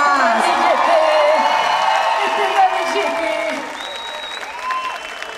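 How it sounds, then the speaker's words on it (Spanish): A live audience applauds and cheers for a rock band, with steady dense clapping, scattered whoops and whistles, and a voice over the crowd before the ovation gradually thins out. "Un aplauso, por favor, para esta bandota sonora."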